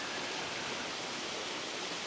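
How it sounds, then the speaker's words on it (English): Water in a woodland stream rushes past moss-covered rocks near a small waterfall, giving a steady, dense hiss close by with no talk. "As you can see, I'm straight down in the stream here."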